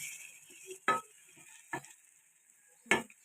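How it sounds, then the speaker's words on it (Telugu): A spoon scrapes through curry in a pan as ground coriander and cumin powder are mixed into a black-eyed pea curry, giving three short, quiet stirring strokes separated by near silence. "అంతా కలిసే విధంగా కలయబెట్టుకోవాలి"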